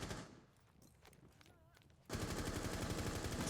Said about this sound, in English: Another gunfight ensues.